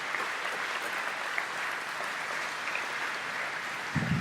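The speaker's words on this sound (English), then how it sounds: "if you guys wouldn't mind giving them a round of applause" A crowd at a Boys State 2021 alumni night applauds, sustained even clapping from many hands heard from a distance at moderate level, with a small burst near the end.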